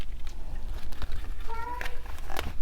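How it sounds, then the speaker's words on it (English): A pet cat meows in the background of an indoor room, a short drawn-out call near the middle followed by a briefer one, faint and somewhat distant beneath low room noise. "Don't mind my pussycat back there meowing."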